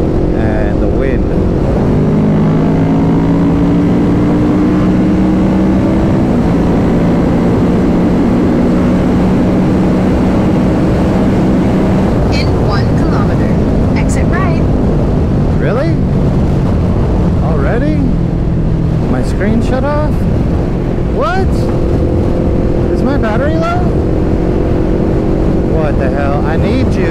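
Kawasaki Ninja 650 motorcycle cruising on a highway, the engine's rising and falling drone buried under heavy, constant wind rush with brief passing-traffic swells, while a rider talks over it.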